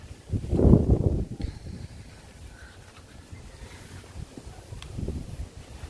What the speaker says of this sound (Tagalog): Lakas ng hangin ngayon.